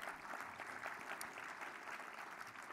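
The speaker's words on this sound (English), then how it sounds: "So you see, you can clap for that too." Audience applause at the 2017 WCV Breakfast: faint, distant and steady clapping from the crowd, with no one talking over it.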